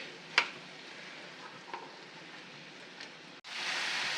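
Chopped ash gourd frying with spices in a pan gives a steady, close sizzle with a few sharper crackles, then a sudden louder, brighter hiss as the cooking surges near the end.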